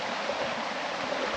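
Water flows steadily past a water treatment facility, a soft continuous rushing hiss with no breaks, moderately near and heard alone.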